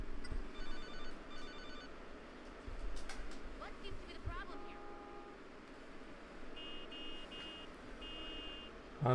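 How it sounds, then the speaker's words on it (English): A phone rings in Grand Theft Auto: Liberty City Stories as a few short bursts of electronic trilling, set against steady game engine and traffic noise with a voice talking over it. "My phone ring already."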